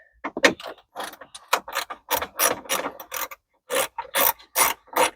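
A ratchet with a 7 mm socket backs out interior trim screws on a Silverado dash, giving a string of quick raspy clicking bursts with short pauses between them, close and fairly loud, no talk.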